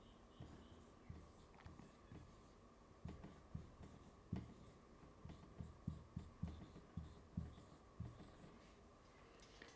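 Chalk or marker writing on a board during a French lesson, faint rhythmic strokes and taps in irregular bursts, quiet room with no talking.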